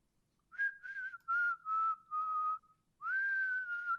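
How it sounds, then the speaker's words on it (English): A person whistles a simple tune in several sustained, clear notes with short gaps between them, close and fairly quiet, with no talking. "I can whistle"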